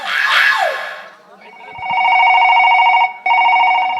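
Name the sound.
telephone ringing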